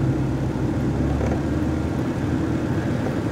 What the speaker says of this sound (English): to rev it up a little bit.